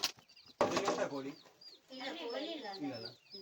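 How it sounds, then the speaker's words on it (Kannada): Chickens cluck in a short burst of close, wavering calls. They are briefly interrupted, then resume, and a person is heard talking nearby. "ಕೋಳಿ"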